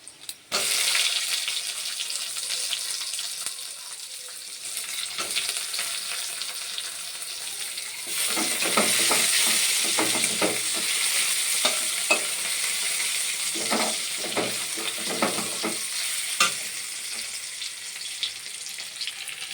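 Tomatoes fry and get stirred in a hot pan, giving a steady close sizzle with scraping spoon strokes that grow louder and busier partway through, and no voices.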